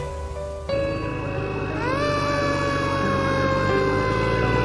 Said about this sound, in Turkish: bu sesler ne? İşte bir itfaiye.